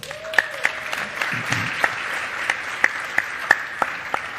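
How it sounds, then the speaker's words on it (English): Audience applause at a school panel event, a steady wash of clapping with a few sharper individual claps standing out, moderately close and continuous without speech. "Let's give her a round of applause"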